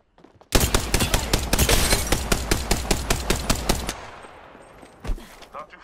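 Rapid automatic gunfire rattles in a dense, loud burst for about three and a half seconds during a battle royale video game fight, then fades into background noise with one more isolated shot shortly after.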